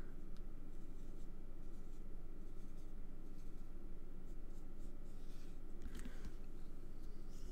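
A Wink of Stella glitter pen glides over a card in faint, continuous scratchy strokes, quiet and close, with no talking.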